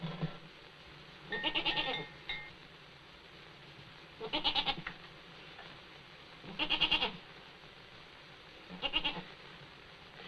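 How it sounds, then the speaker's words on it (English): A goat bleats four times in separate, evenly spaced calls, each wavering and fairly close, over a quiet background. "I think you're a beautiful goat."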